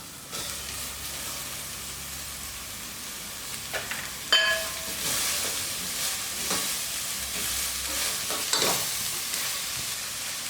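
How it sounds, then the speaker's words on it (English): Red cabbage tipped into a pan of fried onions, hissing and sizzling steadily as it is stirred, with sharp scrapes and clatters of the utensil, close and loud with no talking. "Now we're adding our red cabbage. Just make sure your onions are nicely fried and not brown."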